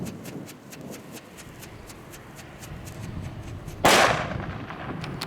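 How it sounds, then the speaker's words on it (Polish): A single sharp, loud bang from a Flash Banger firecracker exploding outdoors, with a quick decaying echo after a fuse-like crackle and ticking lead-in. "Niedrogie, fajne petardy."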